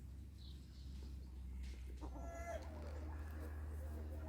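Hens in a French animal sanctuary enclosure shared with ducks and a peacock, clucking softly and intermittently over steady low background rumble, with a brief call rising in the middle.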